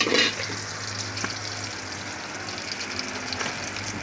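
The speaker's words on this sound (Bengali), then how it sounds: "এখন আমাদের আগে থেকে কেটে রাখা পেঁয়াজ কুচি, তেজপাতা এগুলো দিয়ে নিলাম।" Chopped onion and bay leaves fry in a hot pan for khichuri, giving a close, continuous sizzling hiss with occasional soft clinks and stirring scrapes.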